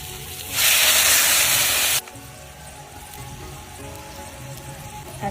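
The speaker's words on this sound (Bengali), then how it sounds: "এখানে জল দিয়ে দেবো" Water poured into a hot pan of bitter gourd and rohu curry with turmeric and green chillies, a loud rushing hiss for about a second and a half that cuts off, then a quieter steady simmer.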